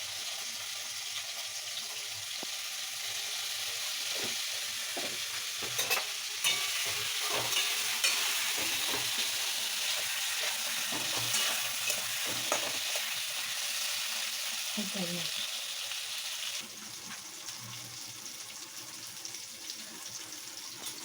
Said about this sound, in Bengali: পটলগুলোকে একটু লাল লাল করে ভেজে নেবো